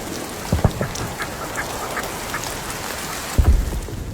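Ducks quack in short bursts a few times, with a flurry of calls at the start and another burst near the end over a steady noisy background.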